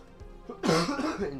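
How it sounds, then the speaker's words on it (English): A single harsh cough bursts out close to the microphone, followed by a brief throat-clearing rasp, after a moment of near quiet. "I apologize for the coughing."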